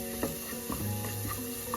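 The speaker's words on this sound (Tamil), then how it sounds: "ஸோ இது அப்படியே ஸ்டிர் ஃப்ரை ஆகட்டும். ஒரு மீடியம் ஃப்ளேமில் தான் வச்சுருக்கேன்." Food stir-fried on a medium flame, stirred and sizzling in a pan, with scraping strokes of a spatula over a steady frying hiss, close by and with no talking.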